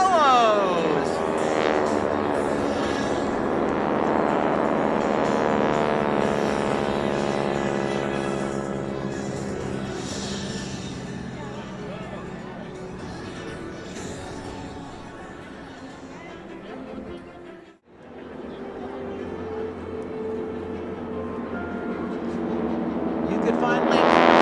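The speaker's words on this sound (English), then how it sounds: "the Skytypers bomb burst with the solos" Geico Skytypers propeller planes fly a bomb burst with the solos at the 2022 Jones Beach air show, a loud engine drone rising and sweeping past. An announcer speaks over it throughout.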